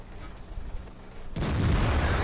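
Artillery shell impact in World of Tanks, a sudden loud boom followed by a sustained rumbling roar after a quieter stretch of distant battle noise.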